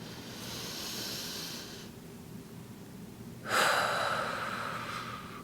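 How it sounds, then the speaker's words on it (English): One person draws a long, deep breath in, then after a brief pause lets it out in a strong, breathy exhale, heard close and alone. "let's take a big deep breath."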